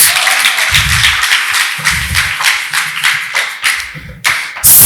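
Worshippers at a lively church service clap for God in a loud, close, roughly rhythmic beat, sharp individual claps over low thumping taps, with a few louder bursts near the end and no talk.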